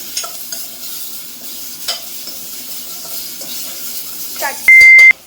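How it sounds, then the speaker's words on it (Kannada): Cumin seeds frying in oil in a pan for spinach (palak) chutney, a steady soft sizzle with stirring scrapes, a few clinks, and a loud electronic beep near the end. "ಇದನ್ನು ಕೂಡ ಇದರಲ್ಲಿ ಚೆನ್ನಾಗಿ ಫ್ರೈ ಮಾಡ್ಕೊಳ್ಳೋಣ."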